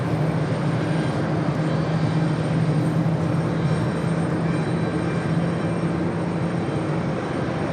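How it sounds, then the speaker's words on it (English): Delta Airlines Airbus A330-200 airliner, formerly Northwest, arriving at JFK on a flight from Frankfurt: a steady, broad jet roar at moderate level that holds evenly throughout with no voices. "That was Delta Airlines Flight 107 coming in from Frankfurt on that A330-200"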